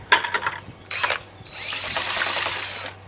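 A power drill spins a dollar store whisk through a mix, with a short whir, a pause and then a long steady grinding whine, close and loud.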